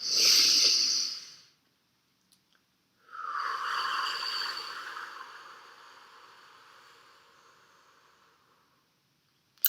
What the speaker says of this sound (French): il faut absolument qu'on prenne une bonne bouffée d'air